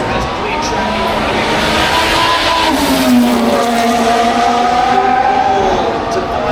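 Formula 1 cars at the Singapore Grand Prix, engines howling loudly and continuously with pitch sweeping up and down through gear changes, a commentator talking over them.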